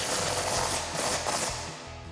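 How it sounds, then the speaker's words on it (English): A ratchet with a 13mm socket tightens a bolt on a Jeep Gladiator JT exhaust install, giving a short, dense burst of rapid metallic clicking up close that fades slightly at the end. "Then we can tighten up our bolt with our 13mm socket."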